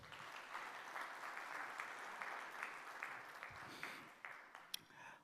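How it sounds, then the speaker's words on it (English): Audience applause at an official investors' meeting with a state chief minister at Expo 2020 in Dubai, a fairly quiet, steady wash of clapping that thins out into a few scattered, sharper claps near the end. "Please give a round of applause."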